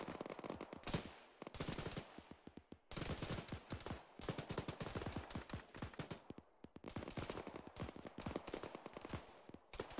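Automatic machine-gun fire in a military video game, loud and close, arriving as long rattling bursts separated by brief pauses, with scattered single shots mixed in.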